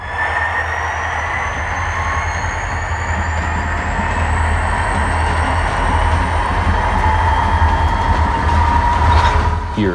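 An HO scale model freight train rolls steadily out of a rail yard onto the main line, a continuous low mechanical rumble and hum with faint high whine, constant throughout and no talking.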